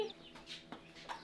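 Tiny newly hatched chicks peep in a few short, faint high chirps, scattered over a quiet background on a Nova Scotia farm.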